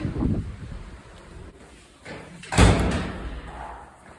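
A freshly repaired door is shut, giving one loud thud partway through against breezy wind noise and faint background rustling.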